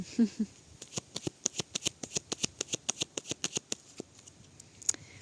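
A deck of tarot cards is cut and handled, giving a rapid series of close, crisp card flicks and snaps with a few scattered taps at the end, with no speech.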